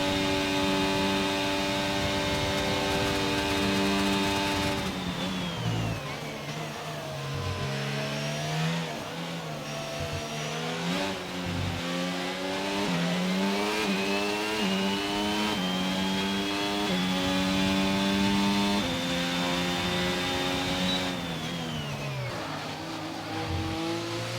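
Onboard engine of a race car in F1 22 screams steadily at high revs, repeatedly dipping on downshifts and climbing again through the gears, loud and continuous with no talk.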